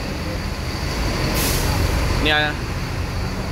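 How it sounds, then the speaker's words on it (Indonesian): Buses pass on a busy road by a bus ticket counter at Bulak Kapal, Bekasi, over a constant traffic rumble. A sharp air-brake hiss is followed by a brief tonal horn-like blare, and a voice talks alongside. "ramai bus yang melintas"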